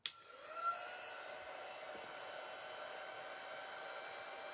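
A hair dryer blows steadily on a Club Couture craft transfer, switching on with a sharp start and then holding a constant, close whirring hum with no talking.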